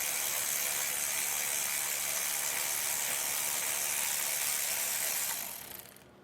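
Ratchet working loose an engine tensioner bolt on a Mercedes M276 engine, a fast continuous clicking whir held for several seconds, close and steady, then fading out.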